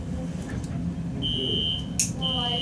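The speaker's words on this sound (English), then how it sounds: "That is an obnoxious fire alarm." A loud fire alarm beeps in two sustained high-pitched bursts, cutting through a noisy indoor background with faint voices.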